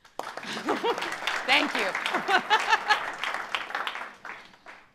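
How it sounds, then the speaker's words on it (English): An audience at a Trout Tank pitch competition gives steady, moderately loud applause while a voice talks clearly over it. "Clap for him."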